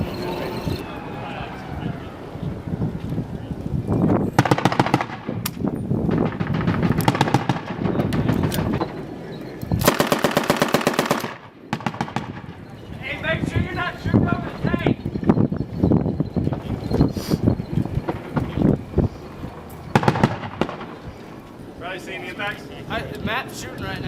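U.S. Marines clearing an insurgent compound about 400 away fire rifles and M203 grenade launchers, with dense bursts of sharp cracks and booms, some rapid volleys and single reports, loud and outdoors, mixed with shouted talk.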